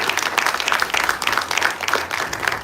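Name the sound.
applause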